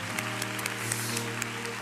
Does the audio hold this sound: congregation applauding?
yes